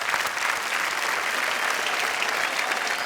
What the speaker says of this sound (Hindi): एक बार जोरदार तालियां फिर इनके लिए।